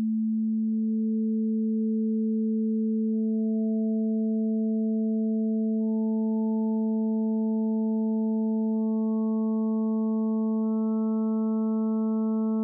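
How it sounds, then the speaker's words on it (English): A steady additive-synthesis tone builds as harmonic levels are added one by one above a sustained fundamental. Pure sine partials stack into a brighter, slightly out-of-tune chord, played alone at a constant, moderate level. "I'm going to add some level to each of the harmonics"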